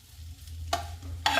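Tamarind rice is stirred in a pan, with two sharp scraping strokes of a spoon against the metal over a low background hum and a faint sizzle.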